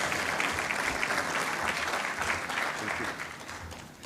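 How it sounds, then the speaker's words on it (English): A dense round of applause fills a formal EU trade event, steady and enthusiastic from a large audience, lasting the full few seconds and only slightly easing at the end. "A round of applause for him,"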